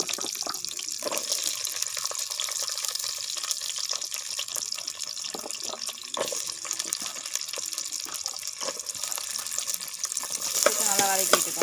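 Shallots and fenugreek sautéing in hot oil for pirandai kuzhambu, a steady close sizzle with occasional stirring scrapes and clinks.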